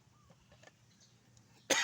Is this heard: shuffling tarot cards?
no